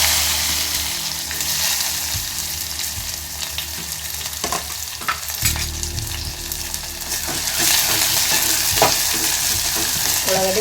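Onions and curry leaves frying in hot oil in a pan, a steady loud sizzle with crackling spits throughout and a few clinks of stirring midway, no talking.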